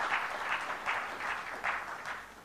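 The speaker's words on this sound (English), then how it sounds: "I request you all to please applaud for all our distinguished panelists who are present here" Audience at a technology leadership summit applauds the panelists, a soft steady patter of clapping with gentle swells, heard from some distance and fairly faint.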